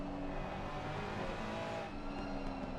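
A Ferrari and a McLaren race nose to tail around the Hungaroring in an endurance sim race, engines droning loud and steady with a constant high whine and tire noise throughout.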